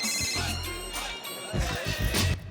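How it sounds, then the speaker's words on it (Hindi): A mobile phone rings in a Bollywood romantic action film scene, a bright repeating electronic ringtone that carries on loudly and steadily over the whole moment. "लगता है मेरा ही फोन बज रहा है"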